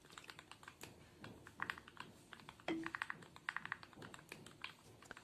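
Steady typing on a mechanical keyboard, a run of close, crisp key clicks in an uneven rhythm with a few louder strikes, no voices.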